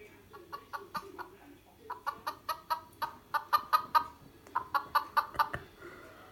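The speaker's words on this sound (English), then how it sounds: "Here's a chicken sound." A smart speaker plays a recorded chicken clucking sound, a run of rhythmic, fairly loud clucks in bursts over several seconds, with no talk during it.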